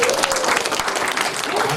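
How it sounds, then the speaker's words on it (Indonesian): Audience applause at an entrepreneurship seminar, a dense burst of clapping from a crowd, loud and continuous, with a voice faintly over it. "Tepuk tangan dong buat kalian dong"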